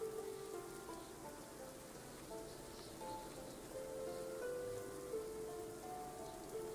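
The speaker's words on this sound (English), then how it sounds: "Man, look at that with all the rain." Steady rain falling across a medieval settlement in the colony-building video game Going Medieval, a continuous soft hiss of drops with faint tonal game music running beneath, no voices.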